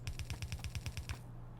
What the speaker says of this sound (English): More cliff explosions, please.